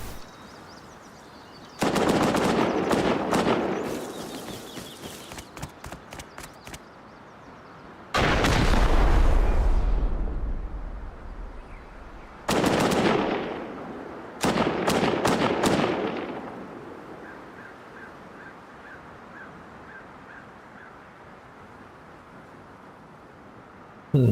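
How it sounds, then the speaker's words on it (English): In the video game Rust, rockets are fired from above, producing several loud, violent blasts and rattling bursts separated by quieter gaps, with a final burst cut off at the end. "Wonder if it's somebody up top freaking shooting rockets down."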